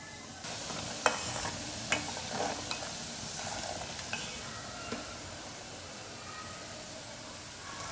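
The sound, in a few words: stirring ground whole spices into a pickle mix on low flame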